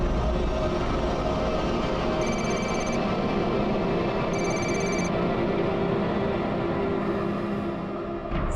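Landline telephone ringing indoors with two short bursts of bright repeated bell tones over a steady loud background hum.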